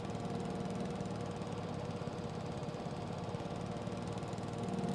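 A 72-inch mower blade running in Farming Simulator 22, a steady loud mechanical drone with a throbbing engine rumble that holds even throughout, no voices.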